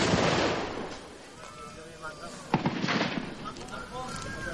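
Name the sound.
cannon artillery fire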